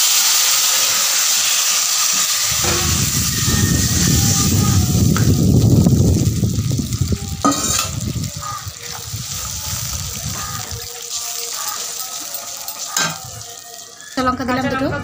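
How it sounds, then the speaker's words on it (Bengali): Mustard seeds and black cumin sizzle in hot oil, a loud crackling fry that surges for several seconds, then gives way to quieter, scattered kitchen clatter and sporadic sizzling. "তারপর সর্ষেটা দিয়ে দিচ্ছি।"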